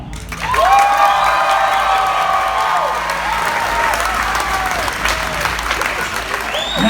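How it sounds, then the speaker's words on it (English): Loud audience applause fills a hypnotist show, with cheering and shouting layered over sustained clapping from start to finish. "They can hear your round of applause throughout the entire show."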